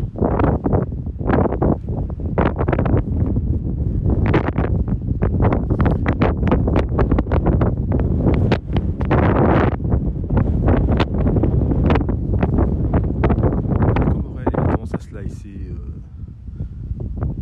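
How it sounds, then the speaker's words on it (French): Gusty headwind on a golf course buffets the microphone in loud, rumbling bursts that keep coming, easing off slightly toward the end. "il y a un léger vent de face"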